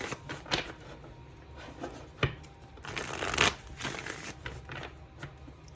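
Tarot cards being shuffled by hand up close, a soft papery riffling and flicking in uneven bursts with a few sharper snaps, heard alone without speech.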